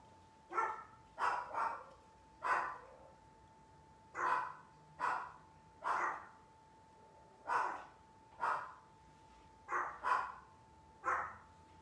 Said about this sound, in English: And those are Chihuahuas and Poodles.